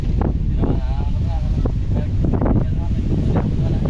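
Strong typhoon wind from Typhoon Uwan roars steadily into the microphone with constant buffeting rumble, while someone talks over it throughout.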